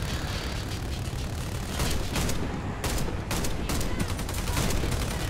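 Massed gunfire as a whole squad shoots at once in a video game, a dense continuous roar of overlapping shots and blasts, loud and close throughout with no pauses.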